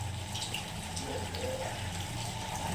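Water is poured into a cooking pot of masala chicken, giving a steady, soft gushing and splashing fill heard close up at a fairly low level, with no talking.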